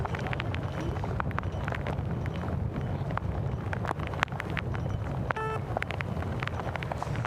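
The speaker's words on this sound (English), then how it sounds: "the wind at the very top off the track, causing all kinds of issues, gusting up to 60 kilometers an hour" Strong gusting wind at the top of a mountain bike downhill track, gusts up to 60 km/h, roaring steadily and buffeting the microphone throughout, with scattered knocks and clatter.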